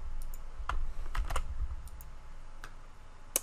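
A computer keyboard clatters quietly with a scattered run of individual keystrokes and clicks, close by and alone.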